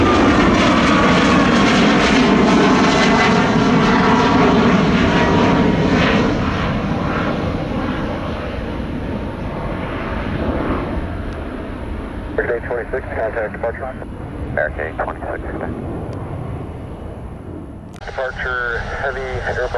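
Heavy roar of an Airbus A330 airliner's jet engines on runway 17 right at Orlando as it starts its takeoff, loud and close at first and then slowly easing off, with radio voices cutting in near the end.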